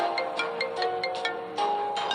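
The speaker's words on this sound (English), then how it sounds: "Then the phone rang." A phone's ringtone chimes in repeated bright electronic pulses, fairly quiet and mixed with tense background music as a call comes in from an unknown number.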